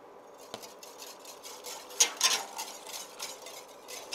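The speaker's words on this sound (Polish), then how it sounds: "Substancję musimy co chwilę mieszać, żeby nie przewarła do garnka, żeby równo wszystko zżelowało." Agar bioplastic mixture being stirred in a pot gives a quiet, steady scrape and scattered soft clinks of a utensil against the pot, with no voices.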